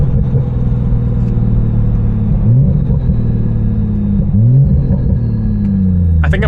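A modified car with no exhaust, driving and revving: a loud, close, continuous deep rumble with rising and falling revs throughout.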